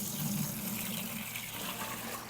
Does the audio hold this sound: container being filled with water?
yes